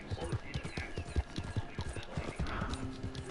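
Horse hooves clip-clop steadily at a walking pace in the Red Dead video game, with a tired horse, while people talk over the rhythmic hoofbeats.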